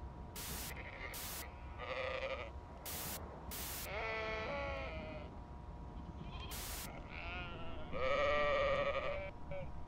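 Sheep bleating in the video game Amanda the Adventurer, several distinct wavering bleats from a small flock repeating over steady background hiss, with a louder cluster near the end.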